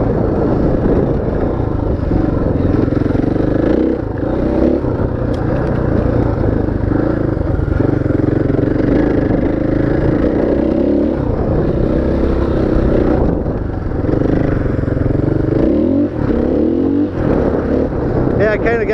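A stock motorcycle exhaust with the baffles uncorked drones steadily at close range as the bike rides around a track, loud and continuous throughout with some wind and clatter mixed in.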